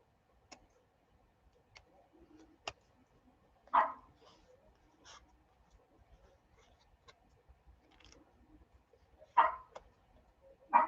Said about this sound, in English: My little dog won't give up.